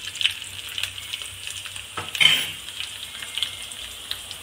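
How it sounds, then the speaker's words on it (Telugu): Curry leaves fry in a hot oil tempering, giving a soft, steady sizzle with faint crackles and one brief louder burst midway, heard close and without talk. "తాలింపు బాగా వేగిందండి"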